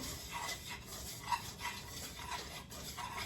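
Flour roux and turkey drippings are whisked together for gravy in a pan, making soft, steady swishing strokes with a faint sizzle, quiet and close with no voices.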